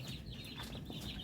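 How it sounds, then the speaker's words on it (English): Chickens raised for food at a teen rehabilitation centre in Cebu, Philippines, clucking softly at a distance in a steady low murmur of overlapping calls, with no voices. "we decided to raise some chicken"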